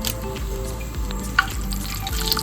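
A bay leaf dropped into hot oil left over from frying fish crackles and sizzles steadily in a wok, a continuous close frying hiss with a small pop, no talking.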